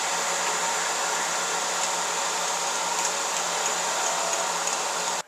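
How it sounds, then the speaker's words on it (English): A drill bores a 3/8 inch hole straight through wood for a pair of knitting needles, a steady loud whirring hiss held for about five seconds before stopping abruptly. "I'm just going to bore straight through 3/8 inch hole."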